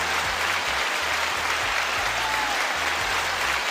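Dense, continuous applause from a crowd, loud and close, a steady wash of clapping that fills the whole stretch without pause.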